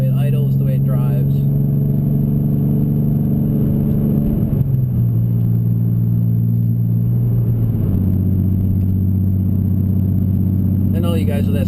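A tuned BMW M3 with an HPF Stage 2.75 turbo setup making 750 rwhp and an SMG gearbox idles and drives with a steady, loud, deep engine drone, its pitch stepping down and back up as it moves.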